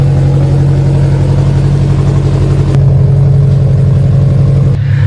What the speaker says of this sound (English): This exhaust setup sounds so good.